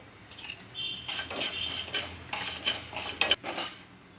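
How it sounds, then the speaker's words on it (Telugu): A spoon scrapes and clinks in a pan while fenugreek seeds dry-roast on low heat for mango pickle, with soft irregular stirring scratches, a few sharp metallic taps and faint crackle up close. "ఇదే ప్యాన్లోనే ఒక స్పూను మెంతులు వేసుకొని వేయించుకోవాలి."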